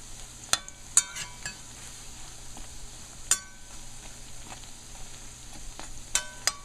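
Mithai dough pieces frying in hot oil make a steady soft sizzle and crackle, punctuated by several sharp metallic clinks of a utensil against the pot.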